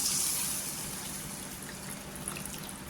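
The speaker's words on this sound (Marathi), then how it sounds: "आता काय करायचं पाणी टाकायचं. पाणी इथे कोमट करून घेतलेलं आहे." Warm water pours into a pan of tomatoes sautéed in oil, a steady splashing gush that starts strongest and then settles into an even, close liquid wash.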